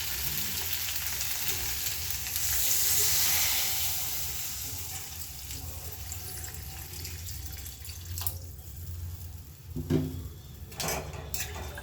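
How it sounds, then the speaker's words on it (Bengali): Sizzling crackle from a hot pan of potato and green banana swells as water is poured in, followed by bubbling, stirring and a few clinks of utensils. "এবার পরিমাণ মতো জল দিয়ে দিচ্ছি"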